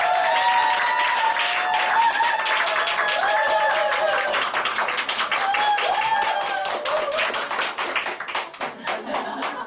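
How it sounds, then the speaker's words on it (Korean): An audience at a Nu Skin business group meeting gives a warm round of applause as a speaker comes forward, clapping mixed with faint cheering voices, then thinning into scattered individual claps at the end. "김건우 사장님 앞으로 나오실 때 큰 박수 부탁드리겠습니다"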